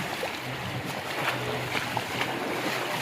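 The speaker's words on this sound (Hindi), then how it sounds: "पानी की स्पीड इतनी तेज़ है।" Fast, turbulent mountain river water rushes steadily with a broad, continuous roar and splashing hiss, close and even throughout, with faint voices barely audible underneath.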